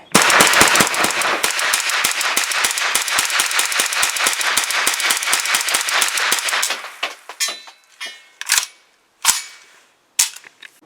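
A Kalashnikov-USA KR9 pistol fires a full magazine of Federal aluminum-case ammunition at a range: a rapid, steady string of loud, sharp shots, then a few slower, spaced single reports to finish.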